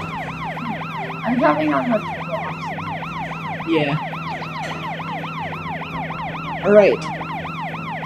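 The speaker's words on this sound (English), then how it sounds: "Press the B button to run the siren and clear the traffic." The siren of a police car in the Tonka Rescue Patrol video game wails steadily in a fast, repeating pattern and stays loud the whole way through. A few brief spoken remarks come over it.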